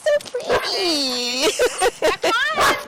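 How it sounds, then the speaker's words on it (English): A Goldendoodle, a Shih Tzu and Poodle mix, lets out a long high whining whimper that rises and falls, followed by short yips and whines close by, with some overlapping voice sounds. "He's Shih Tzu mixed with Poodle."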